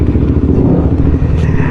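Motorbikes roar past close by on a street, a loud continuous rumbling engine drone with clattering, no talk over it.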